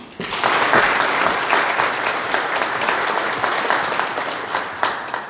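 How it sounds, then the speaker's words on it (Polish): A large crowd applauding loudly and steadily, dense clapping that fills the room and continues without letup. "jeszcze raz proszę Państwa o gorące brawa dla wszystkich naszych gości."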